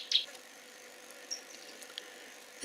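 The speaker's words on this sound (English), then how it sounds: "It's a bird called a cisticola." A cisticola gives sharp dry clicks like a camera shutter, a few scattered brief ticks at moderate distance over faint insect-like background noise.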